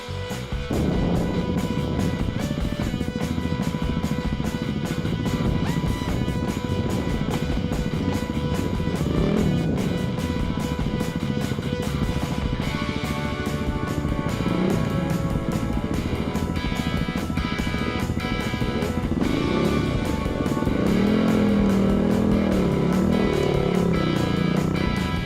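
Trail bikes including a Yamaha WR250R, a KTM and a Husaberg roar steadily through the Watagans bush, with engines droning and revving near and loud for the whole stretch, no pauses.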